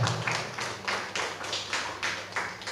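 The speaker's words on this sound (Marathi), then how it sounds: "अध्यक्ष साहेबांसाठी एकदा जोरदार टाळ्या व्हायला पाहिजे" A crowd claps for the chairman at a Buddhist dharma gathering, a loud rhythmic applause in even bursts roughly every half second, mostly uniform hand claps with little else around.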